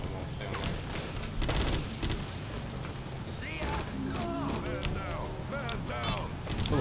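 Gunfire rattles through the Judge Dredd: Dredd vs. Death video game, steady bursts and shots under a dense layer of game noise, with someone talking excitedly over the action.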